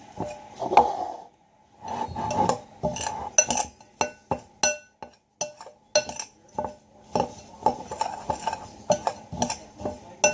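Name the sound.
stirring a dry seed and flour mix for hamster treats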